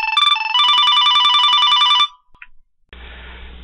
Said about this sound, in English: we should receive a phone call.